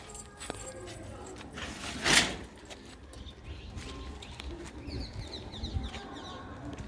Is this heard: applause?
no